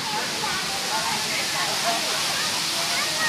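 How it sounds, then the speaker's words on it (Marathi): Waterfall at Kapildhara near a temple, a steady broad roar of falling water that fills the scene, loud and unbroken for the whole stretch. "धबधबा आहे."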